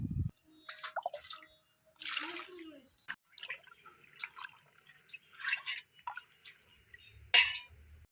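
Kharman leaves washed by hand in water for a dried-fish paste dish, with intermittent splashes, drips and trickles in short bursts separated by quiet gaps, close and moderately loud.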